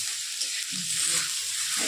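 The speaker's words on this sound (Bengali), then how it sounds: "এটা একটু ভেজে নিচ্ছি" Potatoes frying in a pan with a soft continuous sizzle, close by, with a few faint stirring scrapes underneath.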